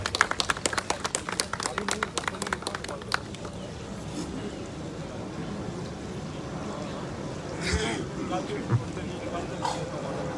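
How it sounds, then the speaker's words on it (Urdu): Audience applause at a ceremony, a burst of rapid clapping for the first few seconds that then fades into a murmuring room with scattered noise. "آپ سب کی بہت سی تالیوں میں جناب فاروق امیر سیال."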